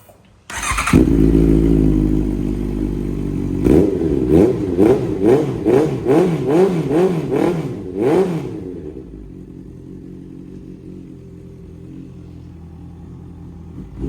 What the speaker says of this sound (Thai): เดี๋ยวสตาร์ทให้ฟังนะครับ